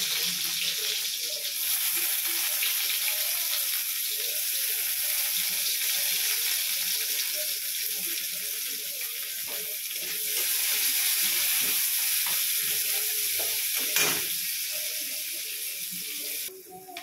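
Chopped onion fries in hot oil tempered with black cumin for an okra and potato dish, giving a steady, close hiss of sizzling that swells slightly midway, with a faint voice in the background.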